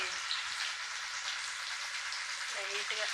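Chicken pakoda frying in hot oil gives a steady, close, dense sizzling hiss that runs unbroken for about three seconds, with a faint voice briefly audible near the end.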